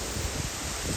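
Strong wind buffeting the microphone outdoors at a lakeside campsite in Kristinestad, a steady broadband roar with gusty rumble, close and loud, no talking.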